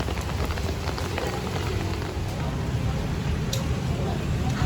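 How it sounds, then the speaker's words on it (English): Rain falls steadily in the town of Balamban, Cebu, a continuous broadband patter on surfaces with traffic faintly underneath, and people talk quietly through it. "the rain let up a little bit, huh?"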